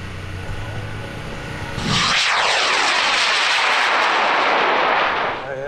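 Scratch-built high power interceptor rocket lifting off on a K750 motor at a launch field, a sudden loud roaring burst that sustains for several seconds while receding into the distance.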